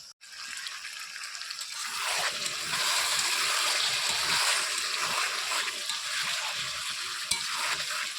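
Chicken sautéed in oil for kasha sizzles and spits steadily in a pan, a loud continuous frying hiss with occasional stirring scrapes, swelling after the first couple of seconds.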